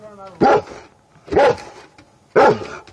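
A 70 lb dog barks at a praying mantis: three loud, close barks spaced about a second apart, with quiet pauses between them.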